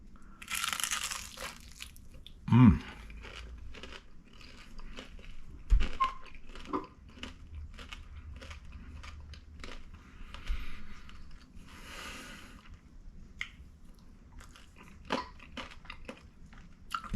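Crisp crunching bites into brittle rice paper, a loud crack early on followed by softer chewing crunches, close up with no talking.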